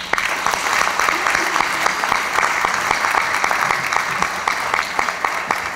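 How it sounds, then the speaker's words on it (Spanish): Audience applauding the 80th anniversary of the National Academy of Sciences, sustained, even clapping from a full room with sharp individual claps standing out, steady throughout nearly six seconds. "habrá que aplaudir a estos 80 años de la Academia Nacional"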